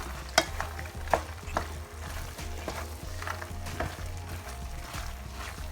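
A spoon stirs cooked pasta into a smoked turkey pasta bake, giving a soft, sizzling scrape with a few sharp clinks against the pan. It repeats in an irregular rhythm, faint and close.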